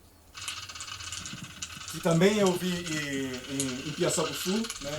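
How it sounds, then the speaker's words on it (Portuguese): Crackling, clicking crab sounds in the Piaçabuçu estuary of the lower São Francisco River, a dense ratchet-like rattle running throughout beneath someone talking. "Isso é o som de um caranguejo"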